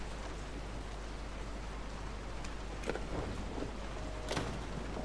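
Rain falls outside in Resident Evil 7 as a steady, moderately loud hiss with a low hum beneath, broken by a couple of brief knocks or clicks.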